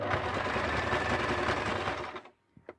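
A mechanical sewing machine stitching a zigzag seam on a Christmas stocking, a fast, even mechanical rattle running steadily close-up before stopping abruptly, followed by a few faint clicks.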